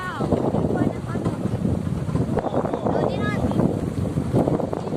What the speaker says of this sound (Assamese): বতাহ বলি আছে